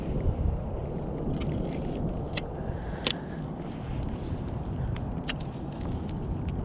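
Frigid wind blowing outdoors by a fishing pond, a dense, continuous low rumble buffeting the microphone, steady and loud with a few faint clicks over it.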